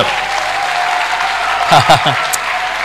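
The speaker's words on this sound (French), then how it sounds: "Pouvons-nous l'acclamer?" A church congregation bursts into applause and cheering, a dense wash of clapping at strong, steady volume, with voices calling out over it.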